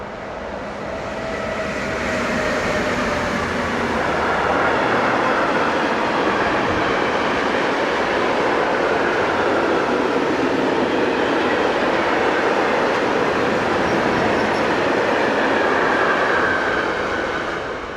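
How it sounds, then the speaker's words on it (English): An eastbound freight train of tank wagons rolls past on European track, a loud steady rumble and rattle of wheels that swells in and holds for the whole pass with no voices. "as it heads east with another tank train"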